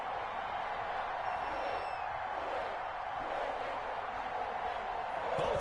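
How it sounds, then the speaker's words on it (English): A sold-out Cincinnati stadium crowd roars in an EA Sports NFL football game, a steady, dense wash of cheering that holds at an even level throughout and swells slightly at the very end. "The enthusiasm of this Cincinnati crowd in full effect a moment ago"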